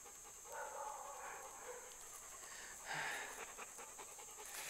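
A dog pants steadily in a ravine outdoors, with quick rhythmic breaths close to the recorder over a constant high-pitched background hiss, and a slightly louder burst of breathing partway through.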